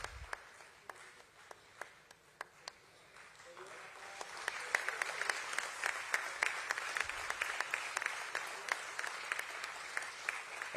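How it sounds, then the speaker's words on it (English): Audience applause at a market listing ceremony for Jio Financial Services, scattered claps at first that swell into steady, moderately distant clapping. "A huge round of applause, ladies and gentlemen."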